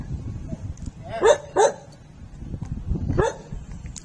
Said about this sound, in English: Who's barking back there?